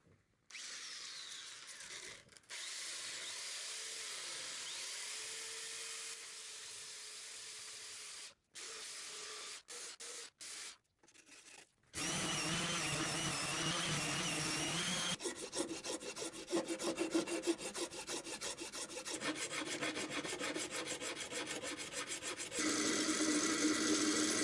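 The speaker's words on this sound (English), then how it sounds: "Right now I'm just gonna get the belt sander and start shaving away the sides." Belt sander shaving the sides of a guitar body made from paper, a loud continuous grinding whir broken by several short stops, then a harsher, rougher sanding run.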